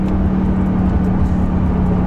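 A Mercedes-AMG GT S Edition 1 cruises at moderate road speed. Its engine makes a steady, loud, low drone with a constant hum, heard from inside the car, with no voices.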